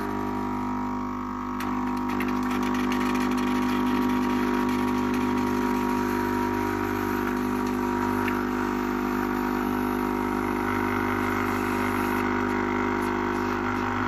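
A homemade combined Dolce Gusto and Nespresso capsule coffee machine brewing into a clear cup, its steady pump hum droning loud and continuous with no talk.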